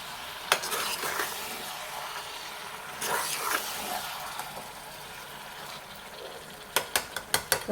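Spoon scraping and clinking through brinjal tomato curry in a pan on the stove, with soft sizzling underneath and a quick burst of sharp metallic taps near the end.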